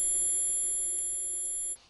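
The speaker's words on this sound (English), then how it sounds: "It's sort of like a constant ringing in your ears" A simulated tinnitus ringing tone, steady high-pitched whine with faint layered tones, constant and fairly quiet before cutting off abruptly.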